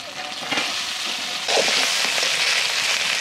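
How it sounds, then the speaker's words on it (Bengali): Sliced onions fry in a pan until reddish, giving a steady, close sizzle that swells slightly partway through, with a brief stir and no speech. "এবার একটু লাল লাল করে ভেজে নেবো পেঁয়াজগুলো।"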